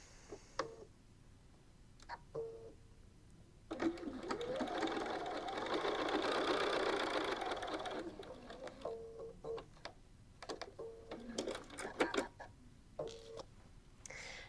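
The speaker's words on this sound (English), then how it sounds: "Now we'll attach the pocket panel with its lining with a 1/4 inch seam." A sewing machine stitches a pocket panel to its lining with a 1/4 inch seam, a steady run of stitching lasting several seconds, framed by quieter ticking and handling sounds before and after.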